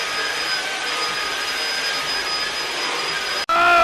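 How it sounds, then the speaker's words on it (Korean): A Samsung Jet cordless premium vacuum cleaner from 2019 runs steadily and loudly with a high whine, then cuts off abruptly near the end, leaving a brief tonal tail. "삼성전자에서 2019년 새로운 프리미엄 무선 청소기를 출시를 했습니다."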